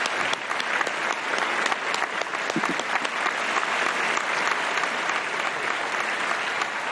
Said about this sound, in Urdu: زوردار تالیاں ان کے لیے ہو جائیں گے